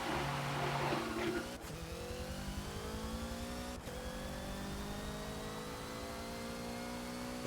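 Hoonigan Focus race car in the Forza video game on outlaps at Lime Rock: a loud engine revving up through the gears, with sharp shifts and a steadily climbing howl.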